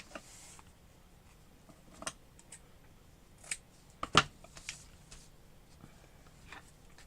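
Scissors trim craft material that will be glued onto a window, making a few scattered, quiet snips and clicks with a single sharper cut in the middle, set against a quiet room with no talking.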